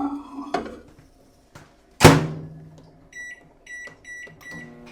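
A microwave oven used while making chicken bacon ranch pizza: a loud door thunk, then a series of four short electronic beeps in an even rhythm, close by in a quiet kitchen.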